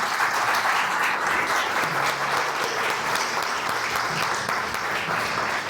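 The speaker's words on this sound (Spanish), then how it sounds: "Denle un fuerte aplauso a Jesús." A church congregation gives loud, steady applause that fills the whole stretch, a dense wash of many hands clapping with no pause.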